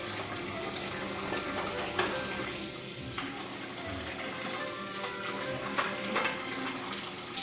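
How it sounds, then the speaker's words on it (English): Water poured from a container onto oven-baked smoked maple baby back ribs makes a continuous soft splashing and hissing wash, fairly quiet and steady, with no talking. "Going in with a little bit of water, give the thing some moisture."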